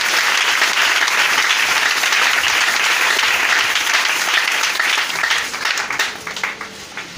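A church congregation at an Easter seminar applauds and acclaims the Lord with loud, sustained clapping that fills the hall, holding steady for several seconds before thinning out slightly toward the end.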